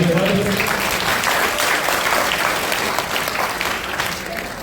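An audience at a one-day training and placement workshop claps in a steady, dense round of applause that stays loud and close for the whole stretch, with some voices mixed in.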